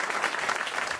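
Studio audience applause on a radio show, a brief steady patter of clapping at moderate level with no pauses.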